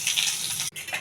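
Mustard seeds, cumin, curry leaves and green chillies fry in hot oil for a chutney, giving a soft, even sizzle with a brief gap near the end.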